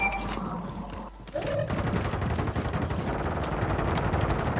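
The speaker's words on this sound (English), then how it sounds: "Hey, somebody shooting." Gunfire in the Call of Duty video game, with dense rapid bursts of automatic weapon fire running almost continuously, loud and close, after a brief dip near the start.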